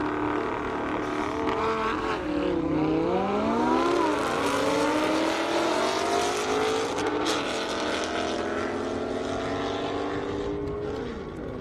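A Lamborghini and a Mustang race on an airstrip, engines roaring loud, rising and falling in pitch through gear changes as they accelerate away and fade slightly.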